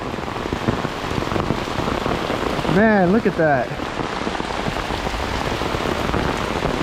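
Steady heavy rain pours down and patters on surfaces throughout, with someone briefly speaking over it partway through.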